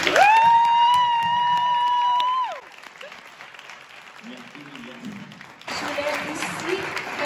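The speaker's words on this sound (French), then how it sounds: "je crois qu'il mérite une grande main d'applaudissements" Crowd at a fashion-school graduation event breaking into applause and cheering after a loud high whistle or whoop, clapping fading before a fresh burst near the end.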